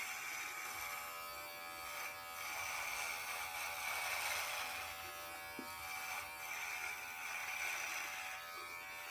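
A Brio Beardscape electric beard trimmer runs steadily in close range, a constant buzzing whir with slight swells in intensity and a brief click partway through, with no talking.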